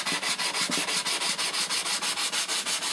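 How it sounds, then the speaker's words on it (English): Sandpaper rubs rhythmically over a balsa model airplane wing coated with clear dope, with quick even back-and-forth strokes, close and loud, about five strokes per second with no talk. "it smells like clear dope going on when you sand it"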